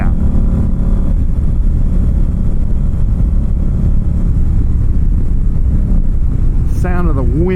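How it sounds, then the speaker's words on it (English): Indian Scout Bobber Sixty V-twin motorcycle engine running steadily with strong wind rush, loud and continuous throughout, with a brief higher whine near the end. "Sound of the wind, the sound of a V-twin."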